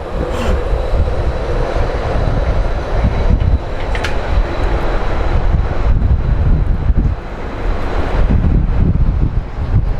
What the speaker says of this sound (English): the wind is picking up pretty bad